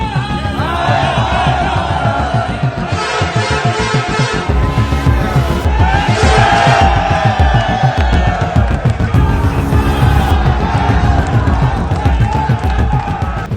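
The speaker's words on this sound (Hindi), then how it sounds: "ये जो मेरे पीछे की भीड़ आप देख रहे हैं, क्योंकि आज पुतला दहन किया गया है।" A loud crowd at a protest in Bhilai, where BJYM and women's wing members burn an effigy of former chief minister Bhupesh Baghel, keeps up a dense, continuous din of shouting and chanting.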